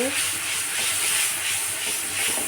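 Mustard paste and green chillies sautéing in a pan for a small-fish mustard curry, giving a steady, close hiss of sizzling with soft stirring scrapes throughout.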